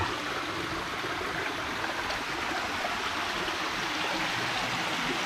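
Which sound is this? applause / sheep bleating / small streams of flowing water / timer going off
small streams of flowing water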